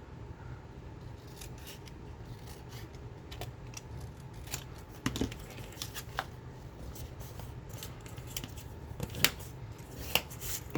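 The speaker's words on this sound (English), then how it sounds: "We'll just cut off any excess if I need to." Scissors cut away excess file folder card stock in a quiet room, giving a series of close, crisp snips at an irregular pace over a low steady background hum.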